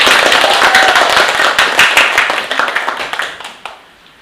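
A class of students claps their hands in a school classroom, a dense burst of sharp claps that starts loud and gradually thins out to scattered claps before fading.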